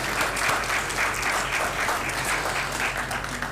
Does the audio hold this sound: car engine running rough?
no